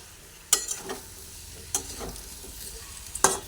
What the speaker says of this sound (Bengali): এবারে শশা আলু আর ডাল একসঙ্গে ভালোভাবে নাড়াচাড়া করে কষিয়ে নিচ্ছি